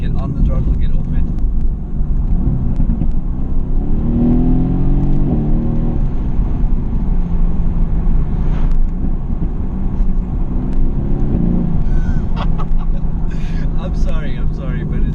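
A Mercedes-AMG GT S V8 rumbles loud and close on and off the throttle, swelling and easing in a deep steady drone.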